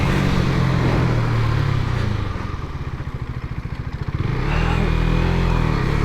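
A KTM Duke 250 ABS motorcycle ridden on the road, its engine droning steadily and loud, the pitch dipping and pulsing as it slows around the middle before rising again with wind rush.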